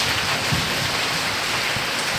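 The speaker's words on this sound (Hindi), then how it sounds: "देखिए हवा भी कितनी तेज़ चल रही है, और बारिश तो हो ही रही है" Heavy rain pours down outdoors in Dehradun during a stormy night, with strong wind, making a dense, loud, steady hiss with low gusty rumbles, unbroken throughout.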